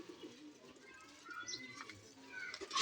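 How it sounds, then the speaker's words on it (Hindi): Breeder pigeons kept indoors give soft, low cooing calls in a quiet, close setting, with faint rustling, a possible voice in the background, and a louder burst at the end. "वो अंदर ब्रीडर कबूतर हैं सारे।"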